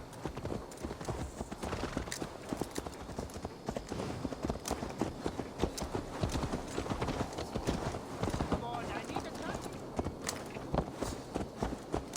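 A horse's hooves clip-clop steadily in Assassin's Creed Valhalla, a rapid, continuous rhythm of hoof strikes near and clear throughout, with speech heard alongside.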